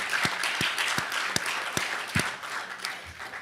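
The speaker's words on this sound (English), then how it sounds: "let's give him another round of" An audience at an anniversary celebration event claps steadily, a moderate crowd applauding with distinct hand claps over a continuous wash, fairly distant and alone without talk.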